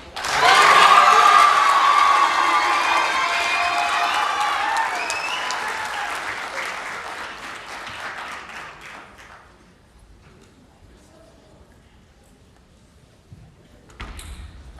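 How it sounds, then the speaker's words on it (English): An audience at a Pasifika Fusion speech event on a main stage breaks into loud applause with some cheering, strongest at the start and slowly tapering off over about ten seconds before near silence. "Another round of applause"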